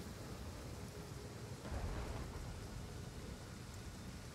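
Steady rain in the strategy video game Total War Pharaoh Dynasties, a dense continuous hiss with a soft low rumble swelling briefly in the middle, no talk.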